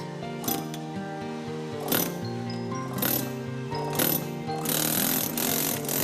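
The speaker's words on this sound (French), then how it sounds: "C'est à présent un système pneumatique qui vient en aide aux tailleurs de pierre." A pneumatic tool works on stone at a large French stonemasonry site, sending sharp impact bursts at irregular intervals over a continuous mechanical drone, ending in a denser run of hammering.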